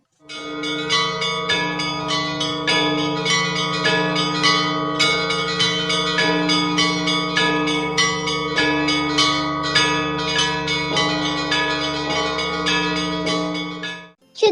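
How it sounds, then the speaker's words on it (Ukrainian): Several church bells ring together in a rapid, overlapping Easter peal, bright metallic strikes layered over humming low tones, loud and continuous before stopping abruptly. "Коли б'ють у всі дзвони, виходить особливий звук тризвон."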